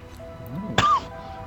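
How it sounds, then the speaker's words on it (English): A single short cough-like burst stands out over a quiet soundscape in the video game Tom Clancy's The Division, followed by a brief rising tonal effect. "Someone's got a cough."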